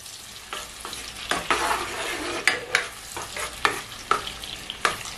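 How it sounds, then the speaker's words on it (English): Minced onion fries in oil in a pot, a close, steady sizzle punctuated by repeated scraping and knocking of a spoon stirring against the pot, loud and rhythmic, with no talk. "So I'm going to go ahead to add my minced onion. Let's stir that together."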